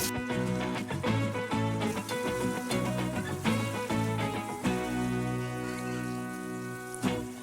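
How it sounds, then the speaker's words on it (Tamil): Tamarind with four dry red chillies frying in a hot pan off the stove, a close crackling, spattering sizzle with irregular pops and scrapes of stirring, no talk. "அந்த சூடுலையே வரமிளகாய் 4 போட்டு நல்லா வதக்கிக்கோங்க."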